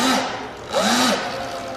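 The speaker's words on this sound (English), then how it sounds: "it spins on the dyno." A modified e-bike in sport mode spins up on a dyno, its motor giving a loud steady electric whine that rises and falls in pitch with a continuous mechanical hum close by.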